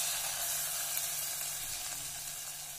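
Hot ghee tempering with dry fruits, a sweet tadka, is poured over carrot halwa, giving a steady, even sizzle that hisses close and alone for a few seconds.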